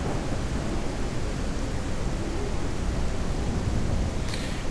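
Rain and thunder in Ranch Simulator, a steady, dense hiss of falling rain under a low continuous rumble, constant throughout with no talking.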